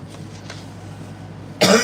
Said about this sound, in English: Here comes the cough.